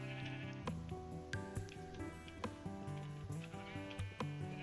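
Sheep in Minecraft, one of them green, bleat several times at dusk, the short repeated calls sitting over a steady tonal game backdrop.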